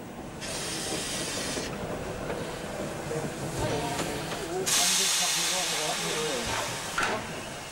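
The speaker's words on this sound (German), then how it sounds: "In Kühlungsborn West rangiert 99-23-22 vor den nächsten Zug nach Bad Doberan." Steam locomotive 99-23-22 of the Molli narrow-gauge railway, decorated for a festive occasion, shunting at Kühlungsborn West: a steady loud hiss of escaping steam with faint clanking, continuing throughout and swelling again toward the end.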